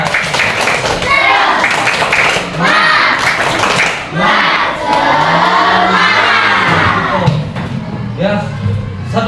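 A classroom of third-grade primary pupils performs a rhythmic group clapping chant, many voices shouting along over steady hand claps and thumps, loud and close throughout.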